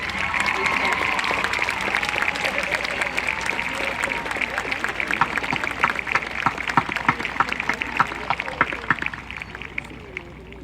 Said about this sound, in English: Please give the valedictorian, Christian Frombach, and salutatorian, John Hoskins, a big round of applause for this outstanding academic accomplishment